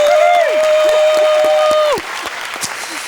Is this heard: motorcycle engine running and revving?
no